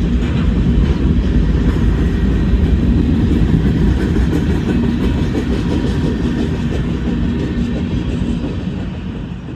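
A southbound CSX mixed manifest freight train rolls past on track two near a road crossing, a loud steady rumble of wagons with clickety-clack wheel noise lasting throughout and easing slightly at the end.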